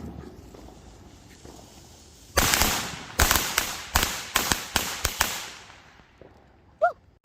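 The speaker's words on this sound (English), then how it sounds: "I'm about to light some firecrackers and throw them in the road." Firecrackers tossed onto a road during a Fourth of July celebration at home pop in a rapid string of about eight sharp, loud cracks, after a quiet lead-in.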